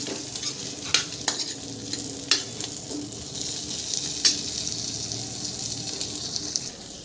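Drumstick pods frying in masala in a pan for a black-gravy curry, a steady close sizzle with a few sharp clanks of a spoon against the pan scattered through.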